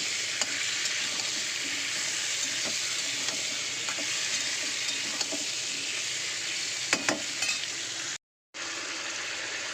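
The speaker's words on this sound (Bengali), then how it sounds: "টমেটোটা দিয়ে একটু তেলে নাড়াচাড়া করে নেবো" Tomato and vegetables stir-fry in hot oil, a dense, even sizzle with scattered light clinks of a stirring utensil, cut by a brief moment of silence near the end.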